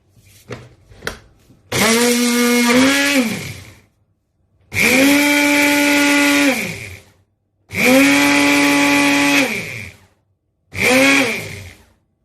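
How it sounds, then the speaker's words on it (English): A blender grinds hard dried bitter kola nuts in several loud bursts with short pauses between, after a few faint knocks at the start. "The blender you use for blending dry things, like your dried nuts."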